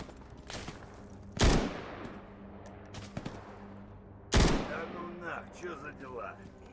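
Two loud, sharp gunshots about three seconds apart ring out in STALKER Gamma, each with a long echoing tail, over a low ambient hum with faint chirping after the second shot.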